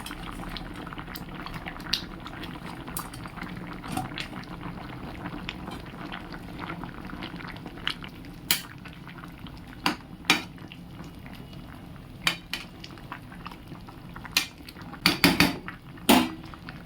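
Mung dal fritters simmer in a curry of ash gourd and potato, a soft continuous bubbling broken by scattered sharp clinks of a utensil against the pot that grow busier toward the end.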